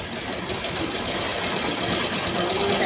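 A sewing machine stitches a blouse with a fast, steady mechanical whir and rapid needle ticking, running continuously at close range.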